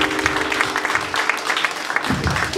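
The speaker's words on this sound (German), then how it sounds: "Klatsch die Hände für den Herrn, bitte." Congregation clapping hands in a church service, steady rhythmic claps throughout with music and voices in the background.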